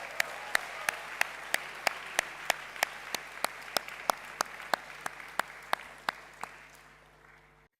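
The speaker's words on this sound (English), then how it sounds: "let's have another round of applause for our well-deserving group of academic prize recipients" Applause for academic prize recipients at a school graduation ceremony: a crowd claps at an even, rhythmic pace, with regular sharp claps standing out over the rest, before the sound tapers off and stops.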